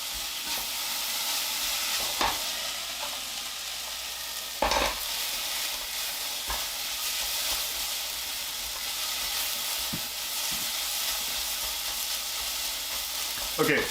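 Breaded chicken fried steak frying in a pan, a steady loud sizzle and crackle throughout with a few soft knocks and scrapes, no talking.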